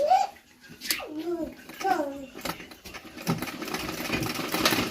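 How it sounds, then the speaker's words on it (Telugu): Cloth being stitched on a sewing machine, its steady close whirring and rapid clatter building up and running continuously, with a voice speaking over the start. "నేనైతే మీకు ఒకటి ఏదైనా క్లాత్ కుట్టి చూపిస్తాను చూడండి మనం ఈ క్లాత్ కుట్టుకుందాం"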